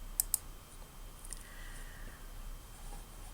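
An author's surname is typed into a library catalogue search field on a computer keyboard, with a couple of quick faint key clicks early on over a quiet room hum, then near silence.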